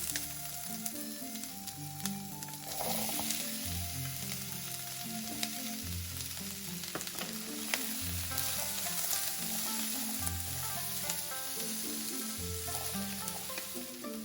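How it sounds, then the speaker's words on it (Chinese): Green and red peppers being stir-fried in a wok alongside beef and potatoes, with a steady loud sizzle and frying hiss, close up and continuous, while soft background music plays underneath. "加入其他青红椒，继续翻炒。"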